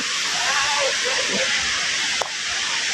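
Tad Yueang waterfall on the Paksong plateau in Laos, heard from the top of the falls: a steady, dense rushing roar fills the whole stretch, with one brief knock near the end.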